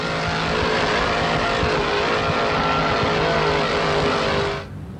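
Offshore powerboat racing engines roar in a loud, continuous drone at an offshore grand prix, holding steady before cutting off abruptly near the end.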